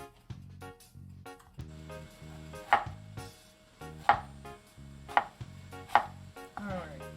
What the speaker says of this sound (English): Slice them thinly, or however you want it